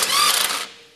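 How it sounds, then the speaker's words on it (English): Ratchet crimper squeezes a ring connector onto a wire, a short close burst of rapid clicks that fades out within a second. "Got a ring connector, comes in the kit. Crimp it on."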